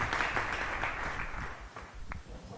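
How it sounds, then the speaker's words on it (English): An audience at an entrepreneurship bootcamp gives a round of applause for a speaker: a wash of massed clapping that fades gradually over a few seconds, without clear talk. "I think another round of applause for Dr. Manasa."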